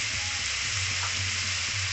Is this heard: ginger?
yes